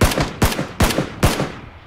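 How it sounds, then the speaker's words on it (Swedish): Four sharp gunshot bursts in quick succession in the video game PUBG: Battlegrounds, each a loud crack fading into a short reverberant tail, evenly spaced with no talking. "Det är någon som skjuter på mig konstant."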